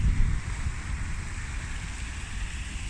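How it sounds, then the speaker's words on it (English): A city fountain in Wrocław splashes in a steady, broadband wash of falling water, close by and continuous, with some wind rumble on the microphone and no talk. "This is lovely fountain, and it's nice to be near it because you can feel the water dripping."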